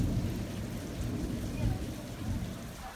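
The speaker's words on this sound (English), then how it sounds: "Super rainy." Heavy rain pours outdoors on a rainy day in a steady, dense roar that stays loud and even throughout, with no voices.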